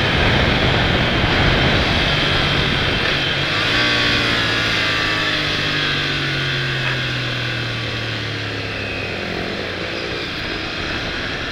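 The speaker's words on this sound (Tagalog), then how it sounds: "Tirik yung makina." A motorcycle engine revs high and sustained on a summer ride, a loud droning whine that shifts pitch and slowly eases, with the engine braking as the gear drops back.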